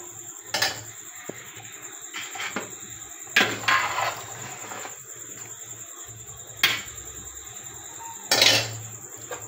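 A spoon or ladle scrapes and clinks against a pot while beef is stirred into biryani, several separate metallic knocks spaced a second or two apart over a quiet background hum.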